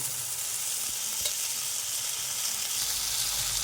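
Potatoes and tomato frying in a pan with turmeric, a dense continuous sizzle close up throughout, with faint stirring scrapes and no talk.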